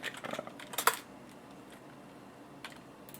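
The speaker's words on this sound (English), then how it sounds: "So I'm just going to type it into Google." Quick keystrokes on a computer keyboard as a search is typed into Google, a short burst of close clicky taps in the first second, then quiet room tone.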